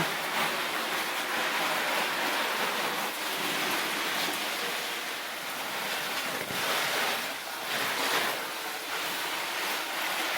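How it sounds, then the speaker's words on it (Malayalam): Water sprays steadily over potted medicinal plants, including kasturi turmeric, making a continuous broad hissing splash that rises and eases slightly. No one speaks over it. "ചെടി സുന്ദരികളെ എല്ലാം നനയ്ക്കുന്നുണ്ട് കേട്ടോ"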